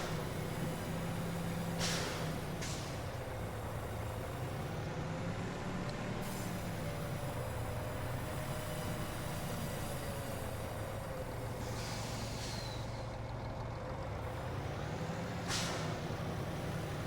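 A heavy truck in Farming Simulator 25 drones steadily for the whole stretch, its low engine hum rising and falling slightly, with sharp hissing air-brake bursts breaking in at a few points.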